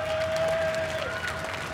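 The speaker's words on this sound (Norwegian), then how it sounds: "En ordentlig applaus!" Steady applause from a crowd at The Gathering 2013 computer party, dense and continuous for the whole stretch, with a faint high tone running through it.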